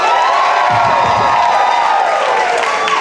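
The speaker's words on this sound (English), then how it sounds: "go crazy if the person you want to hear more from is Tim Platt" A New York comedy club crowd at a one-liner show erupts in loud, continuous cheering and shouting mixed with clapping and whoops, holding a dense roar from start to finish.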